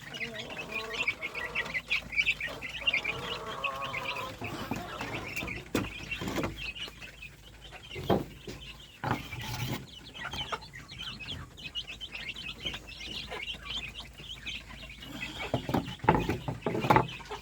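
Chickens and young chicks on a backyard poultry farm cluck steadily throughout, a busy overlapping flock with scattered sharper calls and a few rustling bumps, close by with no talk.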